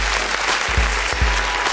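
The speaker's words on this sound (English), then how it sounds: "You can clap for them if you want" Audience applause in a radio studio for a visiting music group, steady clapping filling the whole short stretch with a low hum underneath and no talking.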